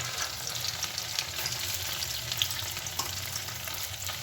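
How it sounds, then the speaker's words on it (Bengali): Cubes of paneer fry in hot oil in a pan, giving a dense steady sizzle heard close up with faint stirring beneath and no voices. "এই যে এইভাবে লাল লাল করে ভেজে তুলে রাখতে হবে এই যে পনিরগুলো।"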